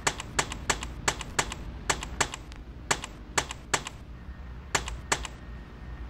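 Typing on a computer keyboard: sharp, irregular key clicks in quick bursts and pauses, close and fairly quiet, with no voices.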